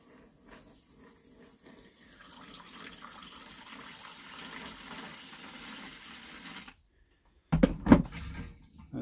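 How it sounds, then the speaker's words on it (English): Water runs steadily into a trailer toilet bowl for several seconds, a broad hiss that cuts out before a short, louder burst of splashing near the end. "Add some more water."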